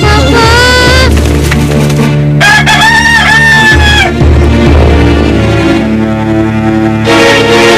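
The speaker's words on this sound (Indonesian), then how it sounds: "Ini ayam berisik aja." A rooster crows loudly and close in early morning, the long strained calls repeating over a dense, music-like background, with no talking during the crows.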